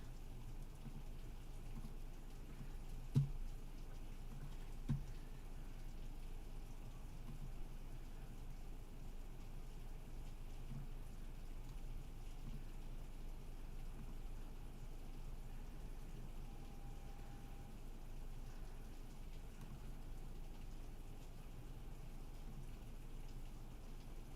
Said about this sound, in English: I think I'm just hearing the rain through my microphone